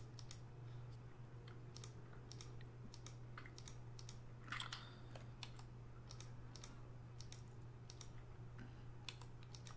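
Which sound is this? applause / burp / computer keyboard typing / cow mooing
computer keyboard typing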